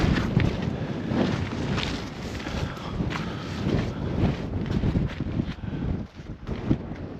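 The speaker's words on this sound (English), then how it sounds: "It's quite windy." Strong wind blusters over a mountain plateau in the Cairngorms, roaring as a continuous, fluctuating rush with gusts that batter the microphone. No voices are heard.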